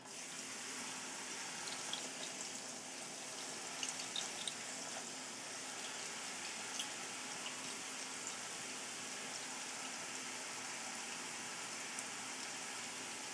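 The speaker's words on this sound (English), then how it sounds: "we'll go ahead and rinse this with cool water" Cool tap water runs steadily over rice in a strainer, a continuous bright hiss and splatter with small irregular droplet patters, unbroken and fairly quiet throughout.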